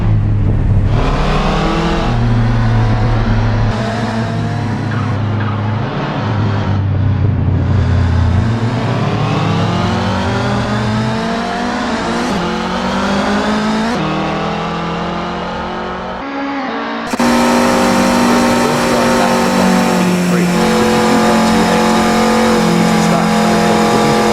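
Racing engine of a Volkswagen Golf Mk1 'Littlebird' in Assetto Corsa sim racing, loud and close, revving up through the gears in repeated rising sweeps with shifts and brief lifts, commentators talking over it.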